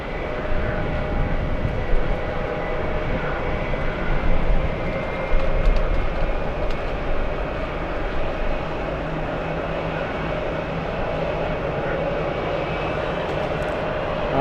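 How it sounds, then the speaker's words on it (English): A Lufthansa 422 airliner from Frankfurt coming in to land near Tel Aviv: a steady, broad jet roar that holds at a constant loudness throughout, with no talk. "We have Lufthansa 422 flying in from Frankfurt, landing in about 30 seconds."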